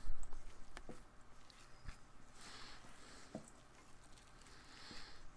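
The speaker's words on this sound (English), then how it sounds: "So she'll mix it up like that for a couple minutes here, trying to get it all, you know, all stirred together." Stiff rhubarb bread batter is stirred by hand, giving soft, irregular squelches and dull knocks against the bowl that continue at a slow pace with low background noise.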